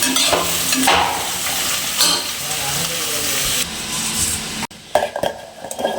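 Vegetables for biryani frying in a pan, a loud continuous sizzle with stirring scrapes and a clank of utensils near the end, close up; a voice may be faintly present.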